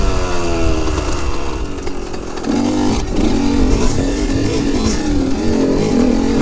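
A Yamaha YZ125 two-stroke dirt bike engine revs hard and high, its buzzing, raspy note rising and falling steadily for several seconds, loud and close outdoors.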